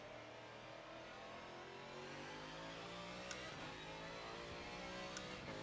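A race car engine in Forza Motorsport 7 revs steadily and loudly, its harmonic tones sweeping up and down as it accelerates, with brief sharp pops near the end.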